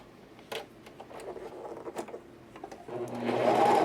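A serger overlock machine stitches around the curved hem of a knit top, with the fusible side up. Light clicks and handling noises come first, then the motor whirs up into a steady, close run.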